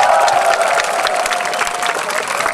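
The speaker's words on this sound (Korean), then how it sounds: "감사의 박수를 드리겠습니다." Loud applause from an audience at a military unit's entertainment performance, continuous crowd clapping with a faint murmur of voices beneath it throughout.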